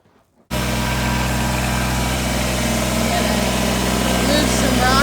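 A tractor engine used for moving rock in a backyard poultry run kicks in abruptly and keeps running at a steady, loud, close drone, with a person talking over it.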